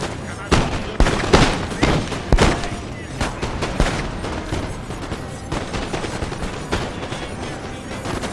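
Volleys of musket fire in a Napoleonic battle video game against Russian troops, with repeated sharp cracks and booms arriving in dense, irregular bursts, the loudest shots clustered early and steadier crackling continuing throughout.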